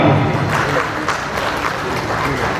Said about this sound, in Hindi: इनके ब्रीडर भाइयों के लिए एक जोरदार तालियां।